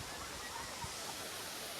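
Waterfall at Courtallam in Tenkasi pours as a dense, even hiss of falling water, steady and enveloping from start to end, with a voice speaking faintly over it.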